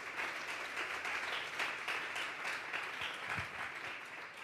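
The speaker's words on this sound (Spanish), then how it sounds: "Dale un fuerte aplauso pues al Señor esta tarde" Church congregation applauding during a Sunday afternoon worship service, a steady sustained wash of many hands clapping throughout, moderately loud and even, with no talk over it.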